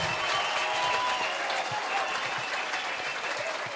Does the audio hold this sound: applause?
yes